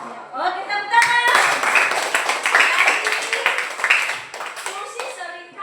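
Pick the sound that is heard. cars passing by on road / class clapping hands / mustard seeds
class clapping hands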